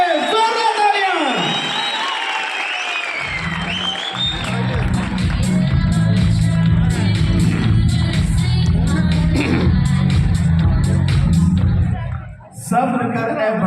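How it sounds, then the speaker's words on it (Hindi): Loud crowd applause and cheering for new runners at a motivational event, steady clapping lasting most of the clip with whoops and a presenter's voice over it. "जोरदार तालियां हमारे नए रनर्स के लिए, जोरदार तालियां।"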